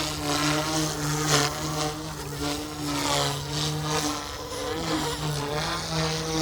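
An OMPHOBBY M2 EVO MK2 RC helicopter spins its rotor at low RPM in its lowest flight mode, a steady droning buzz with a whirring hum that holds constant throughout, fairly loud and close.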